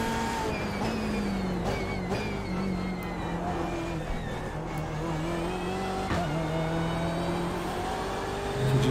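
Simulated BMW M8 race car at Circuit Zolder in iRacing, engine note climbing steadily with rising harmonics and brief gear-change dips, a continuous loud in-car roar with faint tire squeal throughout and no voices.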